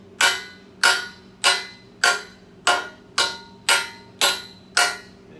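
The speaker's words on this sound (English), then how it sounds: "I'm going to take my hammer" Nine sharp metallic hammer strikes at a steady, even pace, flattening metal before stick welding, each ringing briefly before the next, close and clear with no talking.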